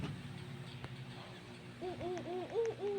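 A bird in the Roblox video game hoots in a quick series of repeated, rising-and-falling calls, loud and close over a busy game soundscape, with no speech.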